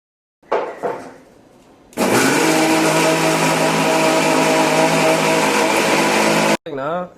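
A mixer grinder whirs loudly and steadily as it grinds coconut, raw mango, onion, green chili and salt, starting after a few brief knocks, running for several seconds, then cutting off before a short restart.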